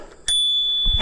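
Bicycle bell on a Mokwheel Onyx mid-drive e-bike, rung once with a bright metallic ding that rings on steadily for most of a second, close and clear, followed by a low thump.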